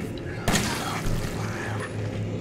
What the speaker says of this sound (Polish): Jeden strzał poszedł.